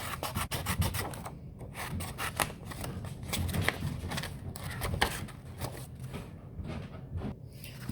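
Scissors cutting paper into strips for a craft paper pizza, repeated crisp snips and rustles at close range, quiet and irregular.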